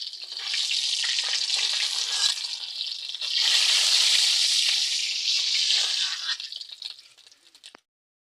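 Rohu fish frying in hot oil, a loud close sizzle with crackling spatter that swells midway, then tapers off and cuts out near the end.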